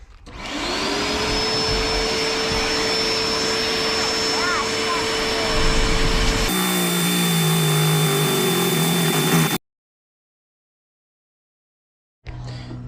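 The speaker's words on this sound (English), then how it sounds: "I got my handy partner here with the vacuum." A loud vacuum cleaner drones steadily with a high whine inside a Ford Transit van, picking up metal shavings, changes pitch partway through, cuts out abruptly, then starts up again.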